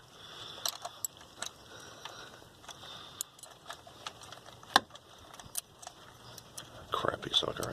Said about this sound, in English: Let's grab the socket wrench.